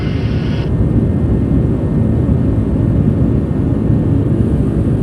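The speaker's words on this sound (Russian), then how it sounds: "Закрылки 2 градуса убрать. Закрылки 2 убираются." Inside an airliner climbing after takeoff as the flaps retract, a steady, loud broadband engine and airflow rumble drones on without a break and no voices are heard.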